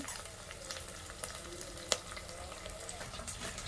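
Cumin seeds crackle and sizzle in hot oil in a steel pan, a close, even frying hiss with small pops and one sharp tap from a utensil.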